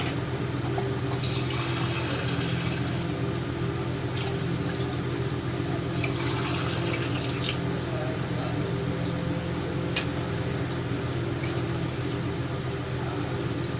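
Water poured into fried masala in a pan for fish curry, a continuous watery bubbling and hiss at steady loudness, close by, with a low mechanical hum underneath.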